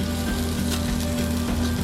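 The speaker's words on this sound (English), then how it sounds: "Let them just sizzle on the bottom there." Wild salmon fillets sizzling on a hot Blackstone griddle, a steady crackling fry with faint pops, close and continuous.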